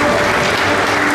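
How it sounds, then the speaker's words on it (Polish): Applause at a sports achievement awards ceremony in Olsztyn, Poland: dense, steady clapping from a large audience filling the short moment at full loudness. "Wielkie brawa, szanowni państwo."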